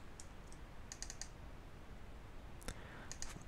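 Quiet mouse clicks come in quick pairs and small clusters, a double-click at work in Adobe Illustrator, crisp and close with a light background hiss and no talk.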